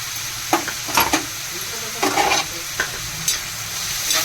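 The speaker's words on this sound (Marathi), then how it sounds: "चांगलं ढवळून घ्यायचं।" Malvani masala and garam masala being stirred with tomato in a hot pan: bursts of spatula scraping recur every second or so over a steady low sizzle, close and clear with no voices.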